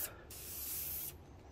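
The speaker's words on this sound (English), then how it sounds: "I have a spray bomb, if you want to call it that." An aerosol can of spray paint for base and clear coat gives a single steady hiss lasting just under a second, close and clean, with no talking.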